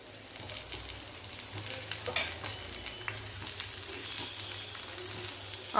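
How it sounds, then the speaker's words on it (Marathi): Grated coconut roasting in oil in a pan while being stirred, a continuous close frying sizzle with scattered scraping strokes and soft clicks of the spoon. "थोडंसं खोबरं भाजूया थोडंसं तेल टाकूया"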